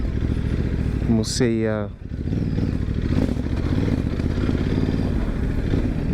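Adventure motorcycle riding off-road in touring mode, engine running steadily throughout with a brief stutter and dip as traction control cuts in, close and loud under excited talk.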